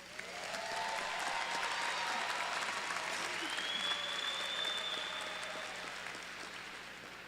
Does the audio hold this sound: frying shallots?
no